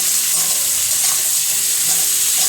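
Chicken frying with salt in a pan for chilli chicken gives a steady, close, continuous sizzle with faint stirring, and nobody speaks.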